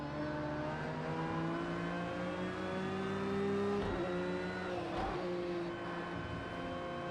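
A race car engine from the racing game Project Cars 2 drones steadily at high revs, loud and continuous, with a brief shift or wobble near the middle.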